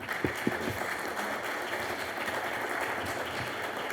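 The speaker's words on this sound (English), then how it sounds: "Can we give them a round of applause?" An audience at a university fine arts college event gives a round of applause, clapping that sounds fairly distant and modest in volume, sustained evenly over a few seconds.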